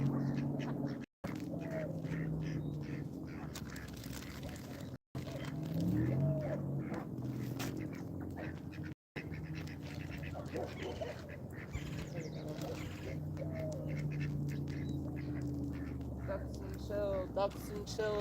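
Ducks quack in repeated bursts close by, mixed with other bird calls and a steady outdoor background, with a person talking at intervals throughout.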